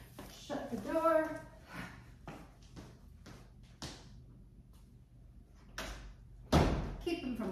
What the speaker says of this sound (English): Just gonna reach around and shut the door.